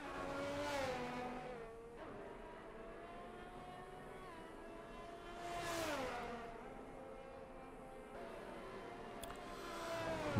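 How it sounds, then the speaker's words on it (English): Racing-game cars at the Jeddah circuit: engine roar rising and falling as they pass, with a steady drone between louder sweeps, heard without any talk. "You can hear the din of the cars"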